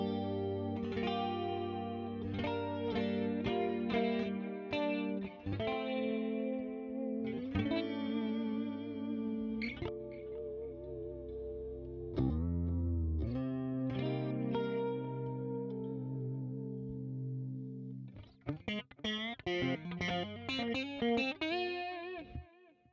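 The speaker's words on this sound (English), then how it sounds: "It's a JP2C, the clean channel of the JP2C, which if I actually set it up for like a mid-position sound" An electric guitar in a clean tone runs through the clean channel of a JP2C amp block with chorus. Shimmering, chorused notes and chords ring out in phrases with short gaps, moderately quiet and alone for over twenty seconds.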